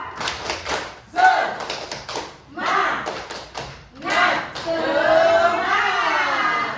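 An audience at an Indonesian teachers' deep-learning training session claps a rhythmic spirit clap, sharp bursts of hand claps in patterned groups with short pauses, followed by a longer, denser stretch of clapping at the end.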